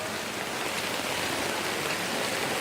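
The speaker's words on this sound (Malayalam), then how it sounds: "മഴ നേരിയ രീതിയിലാണെങ്കിലും ഇപ്പോഴും ഉണ്ട്" Light rain still falling in Kannur, Kerala, heard as an even, unbroken wash of soft hiss that stays constant throughout with no talk.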